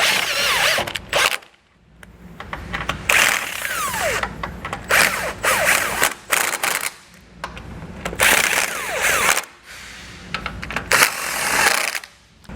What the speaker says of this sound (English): So now I'm going to go back with our torque wrench and just torque these down using the torque setting in the instruction manual.